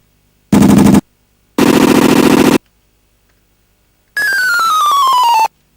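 Electronic chip tones from an original NASP device, three separate bursts of harsh buzzing synth sound, the last a descending sweeping tone, loud and isolated with silence between them.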